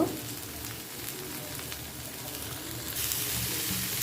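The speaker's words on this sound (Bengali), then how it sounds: "বাড়তি ফ্লেভারের জন্য এখানে আমি একটু ধনে পাতা এটাও একটু ভেজে নিব" Coriander leaves fry in a hot pan for a mashed bhorta, giving a steady, soft sizzle that runs evenly throughout and grows a little louder near the end.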